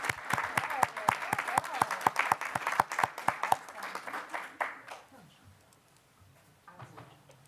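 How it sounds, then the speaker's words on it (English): A room full of people at a school board meeting claps for award recipients, a loud, dense burst of applause that stays strong for about four seconds, then thins out and fades into quiet room noise. "another round of applause for all of our recipients tonight."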